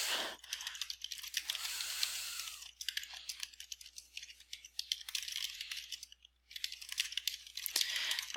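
Rapid, irregular clicking of computer keys as a paper is typed out, with steady bursts and brief pauses, close and fairly quiet, and no voices.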